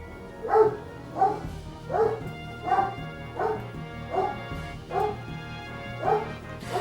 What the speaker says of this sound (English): Lisa, the dog is barking.